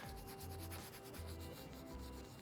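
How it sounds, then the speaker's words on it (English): A white abrasive pad rubs old, oxidized, cured graffiti off a surface in a faint, continuous scrubbing rasp with rhythmic back-and-forth strokes, close up and with no voices. "I'm going to give it a bit more rubbing with a white pad"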